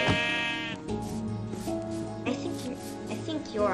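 A sheep bleats in the Minecraft video game, one loud wavering bleat at the start followed by softer game sounds and later bleats, with a voice talking over parts of it.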